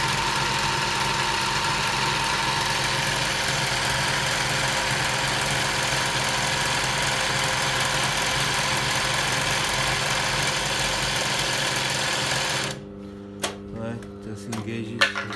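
A SMITCH 20u53 zig zag and straight stitch sewing machine runs with a steady, even motor hum and mechanical whir for most of the stretch, then switches off, leaving a few faint clicks.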